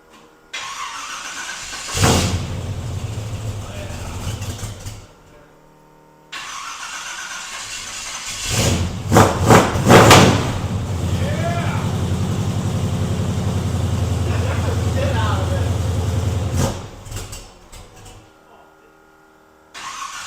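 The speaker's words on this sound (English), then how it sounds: "Now we get to hear what it's going to sound like with muscle car mufflers." A muscle car fitted with Flowmaster FX mufflers cranks and fires up close, settles into a loud, rumbling idle, then blips the throttle several times in quick revs before shutting off with brief quiet gaps.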